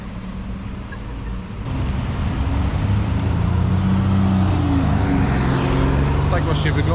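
A green city bus drives past on a Liverpool street, a loud, steady engine rumble that swells after the first second and holds amid continuous traffic noise.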